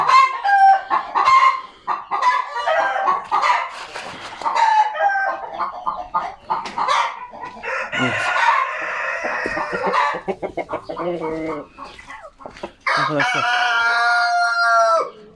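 Broody hens clucking loudly up close, with repeated cackles, drawn-out protesting calls and a crow-like cry near the end, continuous over fifteen seconds.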